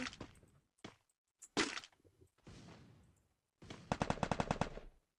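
Gunfire in a shooter video game, several scattered single shots followed by a rapid automatic burst near the end, close and fairly loud.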